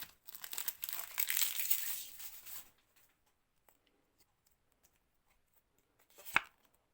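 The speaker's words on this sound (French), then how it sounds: "il nous reste encore 4 boosters à ouvrir" Pokémon card booster pack from the Chilling Reign set being torn open, a loud crinkly foil tearing and rustling for about two seconds, then quiet with a brief sharp crinkle near the end.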